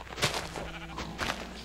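A sheep in Minecraft bleats twice, short wavering calls close by and moderately loud over a low steady background.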